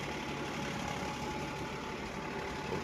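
A tractor pulls a large cultivator across a field, its engine a steady, even drone with a dense rushing noise and no talk.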